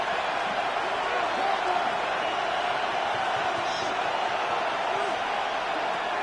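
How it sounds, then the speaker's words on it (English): A football stadium crowd roars steadily in a continuous wash of cheering, urging on the defense on third down late in the fourth quarter, with a commentator talking over it. "This crowd urging the defense on."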